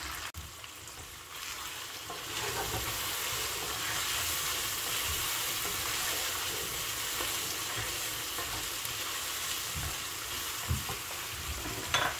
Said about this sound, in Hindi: मसाले डालने के बाद और हरी मिर्ची और अदरक डालने के बाद मैं दो मिनट के लिए इसको भून रही हूँ